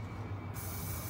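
Hair product from a spray bottle misted onto loose-textured hair at a salon styling demo, a single steady hiss lasting about half a second, close and clear with no talking.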